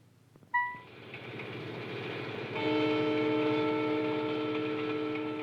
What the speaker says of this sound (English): Patch heard the sound of a speeding, streamlined train.